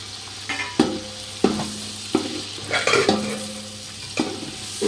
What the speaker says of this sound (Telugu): అల్లం వెల్లుల్లి పేస్ట్ వేగాక ఇప్పుడు టమాటా ముక్కలు వేసుకోవాలి.